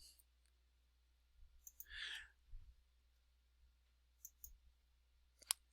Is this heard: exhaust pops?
no